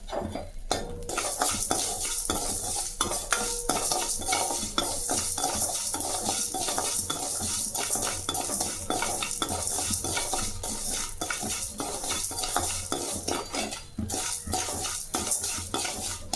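A handful of salt being lightly heated in a pan for puliyodharai powder is stirred continuously, giving a steady close scraping and gritty sizzling rustle with soft utensil clinks and no talking.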